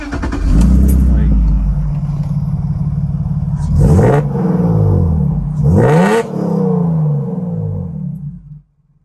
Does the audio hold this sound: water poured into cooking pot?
no